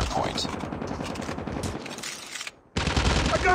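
Rapid automatic gunfire in a shooter video game, loud dense bursts of repeating shots that cut off briefly before resuming, with game voices mixed underneath.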